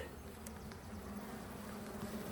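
Honey bees buzzing at the hive, a faint, dense, continuous hum of many insects close by with no voices.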